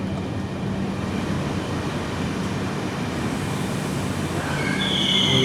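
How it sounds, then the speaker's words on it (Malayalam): Jan Shatabdi Express with LHB coaches rolling into Kayamkulam Junction station, a steady rumbling of wheels on rail with squealing and brake hiss rising toward the end, close and continuous, no voices. "അപ്പോൾ നമ്മളങ്ങനെ കായംകുളം ജംഗ്ഷൻ സ്റ്റേഷനിലേക്ക് പ്രവേശിച്ചിരിക്കുകയാണ്."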